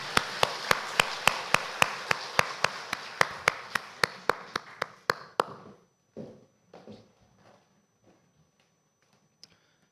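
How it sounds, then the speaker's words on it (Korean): A church congregation claps in unison, giving steady, rhythmic, sharp hand claps for about five seconds. The clapping then breaks off into a few scattered, fading claps and a near-silent room, with one last faint clap at the end. "하나님께 영광의 박수 올려드립니다."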